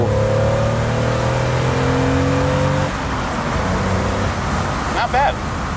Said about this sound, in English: All right, we're gonna test out the acceleration.